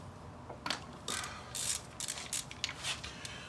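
A ratchet clicks in short, uneven bursts while unbolting timing belt parts on a Toyota Celica V6 engine, close and crisp against a quiet background with no talking.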